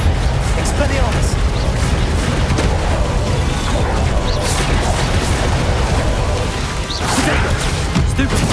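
Bombarda spell blasts in Hogwarts Legacy, heard as loud, dense crashing and booming impacts that pile up continuously through a hectic fight, with brief whacks and bursts throughout.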